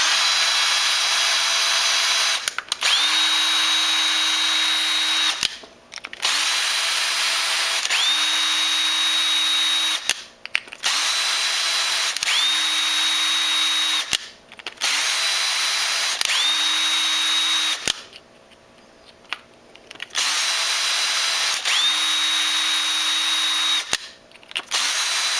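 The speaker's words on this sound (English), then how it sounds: "I'm going to use an undersized tap on these." A power drill drives an undersized tap into holes for a rail on a Ruger P97 pistol. Its steady, close whine runs in about five long bursts, each ending in a short stop.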